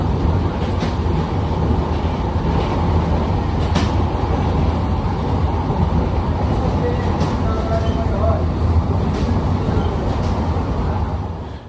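A train on Eastern Railway pulls out of Kalinarayanpur junction, giving a steady, loud rumble and rolling roar that holds for the whole stretch without a break.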